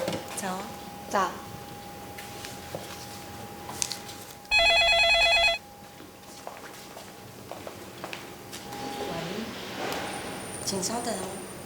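A telephone rings once in a brief electronic burst lasting about a second, clear and fairly loud, set amid faint room sounds and light movement in a drama scene.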